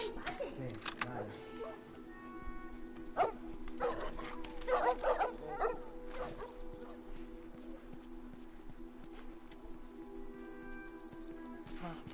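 Dogs barking in The Last of Us, a cluster of sharp barks and yips in the middle amid a low droning game ambience, with people talking over it.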